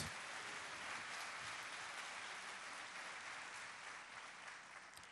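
A church congregation applauding together, a dense, steady wash of clapping that fills the room evenly and tapers slightly at the end, with no voices on top.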